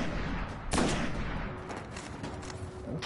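Gunfire from the video game Destiny on PS4 while shooting at an enemy, a dense rattle of rapid shots with one louder blast early on, loud and continuous over a noisy game soundtrack.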